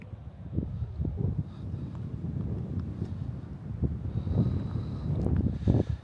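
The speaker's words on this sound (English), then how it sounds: "Oh, that was a big gust of wind." Wind buffets the microphone in rough, uneven gusts on a freezing morning at the bottom of Lake Taneycomo, a low rumbling roar swelling and fading over several seconds outdoors.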